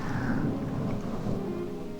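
Rain and thunder outside form a steady, dense low rumble with a constant wash of rainfall, continuous and unbroken, with no voices.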